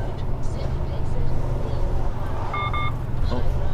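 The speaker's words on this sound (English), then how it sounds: "Silly truck, the old sensor's going crazy." A truck's proximity sensor gives a short run of quick electronic beeps over steady engine and road rumble from inside the cab at night.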